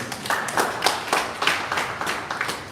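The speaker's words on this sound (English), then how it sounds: "Let us give a big round of applause to Mr. Opsen James." Small group clapping for Mr. Opsen James at a wellness company's live event, a handful of distinct, fairly close hand claps in an uneven rhythm of roughly two or three per second.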